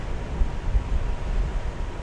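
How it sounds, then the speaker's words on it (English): Steady sea breeze roars across the microphone with low gusty rumbles, a continuous blustery rush outdoors at sunset with no voices. "it's windy as shit. It's that sea breeze."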